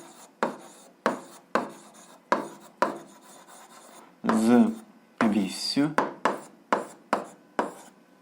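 A pen scratches out a line of algebra working, about a dozen short, sharp strokes in an even rhythm, close and clear, with a longer scribbling stretch in the middle and no talk.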